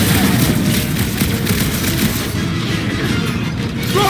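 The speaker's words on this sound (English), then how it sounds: "Rockets! Fireworks!" Rockets and fireworks explode in a Guardians of the Galaxy video game battle in a mine. Dense, loud, continuous booming and crackling runs through the whole stretch, with a faint voice underneath.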